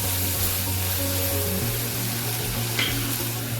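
Tamarind and tomato sautéing in a pan for rava idli, a continuous dense sizzle with a low steady hum underneath, close and unbroken with no talk.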